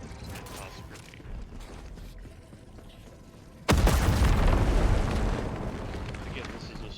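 A grenade blast in the video game Helldivers 2 strikes abruptly partway through, a loud booming burst with a rumbling tail that fades slowly over several seconds, following a stretch of quieter battle noise with some talk.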